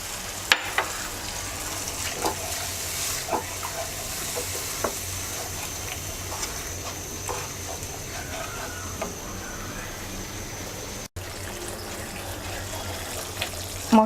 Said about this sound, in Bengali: মশলাটাকে আমরা আরও 1 মিনিট কষিয়ে নেব।